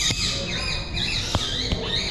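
Pet store birds squawk and screech loudly and continuously, with a couple of sharp clicks, close and unbroken.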